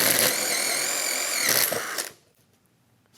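A DeWalt impact driver spins a hole saw in short, loud, whining bursts with a steady mechanical tone. It runs for about two seconds with a brief dip in the middle, then stops to near silence.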